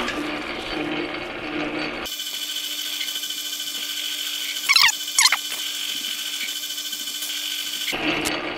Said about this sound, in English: I have the boring bar set up here, and now I'm just going to take passes until I get it to an inch and a half